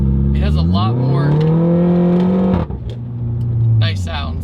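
A 2-liter turbo Mini Cooper S engine gives a loud, continuous growl, rising in pitch as it revs, then dipping briefly and settling back into a steady rumble, with a voice talking over it.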